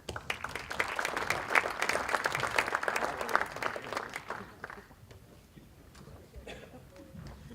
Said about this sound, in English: Let's give the panel one more round of applause